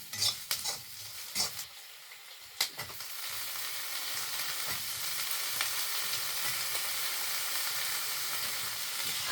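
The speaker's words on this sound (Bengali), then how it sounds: "ভালা করে লাল লাল করে ভাজুন" Potatoes frying in hot oil in a Bengali home kitchen, with onion, garlic, ginger and bay leaf already in the pan: a few sharp stirring clatters early on, then a steady, close sizzle running to the end.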